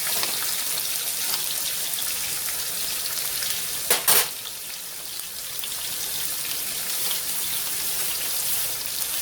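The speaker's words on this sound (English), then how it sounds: "Now all you do is sear it for 1 minute on each side." Pork chops searing in a hot pan, a steady loud crackling sizzle that holds evenly for about nine seconds, with a brief sharper burst of spitting fat midway and no talking.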